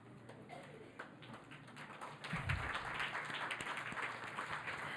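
A congregation at a Christmas Eve candlelight church service starts clapping, building from a sparse few claps into steady applause that continues to the end.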